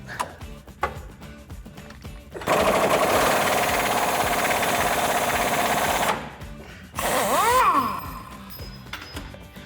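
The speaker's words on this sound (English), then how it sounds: "with the swivel socket, you should be able to get an impact gun in here as well" An impact gun with a 21mm swivel socket rattles loudly in sustained bursts as it loosens a shock absorber bolt on a 1999-2006 Chevrolet Silverado, with a long hammering run, a pause, then a shorter burst up close.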